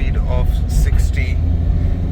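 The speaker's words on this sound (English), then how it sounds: "Right now I'm driving the car at the speed of 60 and the car is driving absolutely flawless." Interior drone of a white 2011 Ford Figo 1.4 Duratorq diesel hatchback cruising at 60, a loud low rumble under someone talking.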